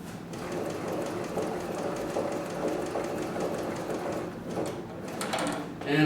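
Sewing machine stitching a box pattern on leather, a fast even mechanical clatter of needle strokes that runs steadily, then stops briefly before the motor revs again at the end.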